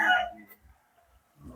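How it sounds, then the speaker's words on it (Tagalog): A chicken inside a house gives a short burst of clucking at the start, then a couple of faint low sounds follow in the near silence. "Nakakapasok na palang manok dito sa bahay mo."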